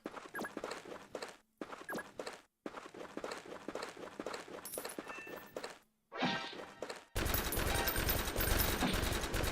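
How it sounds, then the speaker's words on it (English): Machine gun fire in the video game Noobs In Combat: Cold Front, with bursts of rapid clattering shots broken by short gaps, ending in a dense, loud sustained stretch of gunfire. "That's a machine gun"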